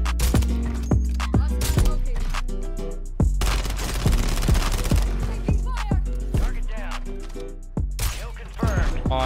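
Rapid sniper rifle shots ring out in the video game Warzone 3, a quick series of loud sharp cracks with ringing tails in steady succession, close and dense.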